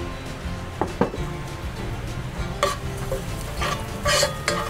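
Garlic sautéing in a pan for chicken pochero, a close, steady sizzle punctuated by spatula scrapes and a few sharp clinks against the pan, without any talking.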